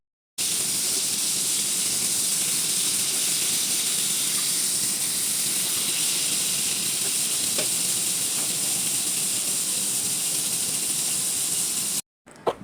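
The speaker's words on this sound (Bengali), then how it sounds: "চুলায় আমি একটি ফ্রাই প্যানে মাছগুলো ভেজে নিচ্ছি" Fish pieces fry in a frying pan on a stove, a constant close hiss and sizzle of hot oil with a few faint clicks and pops, running steadily before stopping abruptly.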